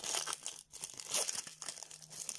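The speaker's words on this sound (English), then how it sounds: "rip it open." A Pokémon card pack wrapper crinkles and tears open up close, with quick bursts of crumpling plastic and short rips, faint and alone.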